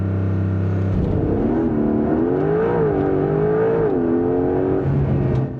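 Porsche 911 GTS T-Hybrid accelerating hard on tarmac, a loud engine note climbing through the gears with pitch rising and dropping at each shift, heard close and continuous with no talk.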